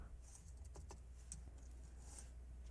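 Quiet typing on a computer keyboard while writing code, a few soft scattered key clicks over a low steady hum, with no talking.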